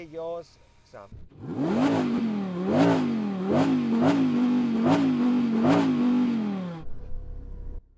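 An Audi R8 sports car engine revs hard in repeated bursts, climbing and dropping several times, loud and close, before cutting off abruptly near the end.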